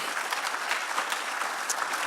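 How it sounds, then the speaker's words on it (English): An audience at a live talk event claps steadily for the sponsors, a brief even patter of many hands heard from a distance and fairly faint. "So let's give a round of applause to our sponsors."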